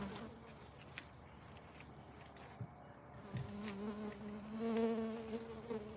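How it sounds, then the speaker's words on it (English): A small sweat bee buzzes faintly and close by in front of the camera at an outdoor chainsaw bear-carving spot, its wavering hum rising and falling over quiet background ambience. "Y'all see that little sweat bee? He's flying in front of the screen."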